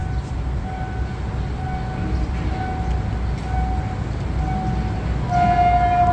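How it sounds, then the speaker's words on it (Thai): Steady heavy rumble of an empty flatcar freight train rolling past at Makkasan, with tonal squeal or horn-like lines above and a louder surge near the end. "เป็นรถสินค้านะฮะ มาแล้วครับ เสียงดังกระหึ่มมาเลย"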